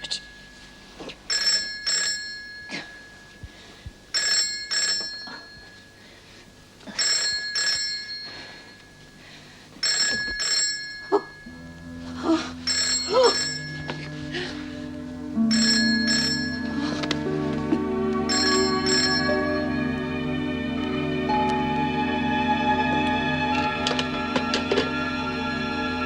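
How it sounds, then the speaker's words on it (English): An old-style telephone bell rings in repeated double bursts in a prison drama, close and clear, before music and voices take over the second half. "Gwen, can't you hear the phone?"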